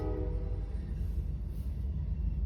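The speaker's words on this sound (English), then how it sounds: "Sorry about the train, guys. No matter where I move, there's always a train." A train rumbles past nearby, a low, heavy continuous roar, with the fading tail of its horn at the very start.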